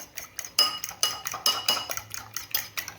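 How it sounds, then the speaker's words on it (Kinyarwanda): Eggs with salt beaten in a bowl, a utensil clinking rapidly and unevenly against the sides in close, bright, repeated taps with no voices. "ayo magi turayamena, turayakubita cyane tuyanoze, dushyiremo n'umunyu"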